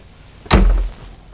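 A single short wooden thud and rattle as a closet door in a motorhome swings open, loud and close, then quiet.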